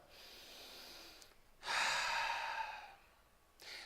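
A single deep breath drawn in slowly and let out, close and fairly loud against a quiet background, with a faint shorter breath near the end.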